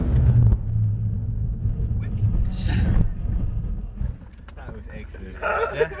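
Mercedes E63 AMG Sport launching at full power with a bit of wheel spin at Mercedes-Benz World, a loud deep engine roar that drops away after a few seconds, followed by a faint short voice.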